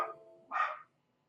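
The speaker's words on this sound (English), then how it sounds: "you can hear my dog in the background" A dog gives a single short bark in the background of an indoor room, faint and brief, following a softer sound just before it.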